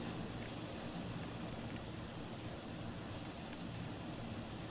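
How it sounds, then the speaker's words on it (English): Plane arriving at an airport in the management video game Airport CEO, a steady hum of aircraft engine noise with a thin high whine, constant and fairly faint throughout. "here's our very first plane arriving"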